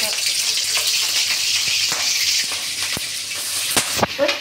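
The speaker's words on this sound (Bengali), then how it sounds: "তেলটা গরম হইলে একটু ভালো করে মশমশা করে ভাজে নিই।" Shrimp seasoned with turmeric and salt fry in hot oil in a wok, a loud, constant bright sizzle broken by sharp popping crackles, getting busier toward the end.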